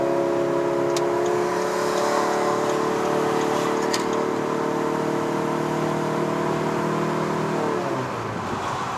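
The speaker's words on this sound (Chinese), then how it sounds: "基本上那个 CVT 根本就是一个在玩油门控制，你要踩放而已啦" A Proton Iriz 1.6L with a CVT gearbox climbs uphill under steady load, its engine drone loud and even for several seconds before the note drops near the end.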